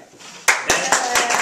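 An audience at a comedy magic show claps in slow, sharp, evenly spaced bursts, loud and near, with voices talking around the applause.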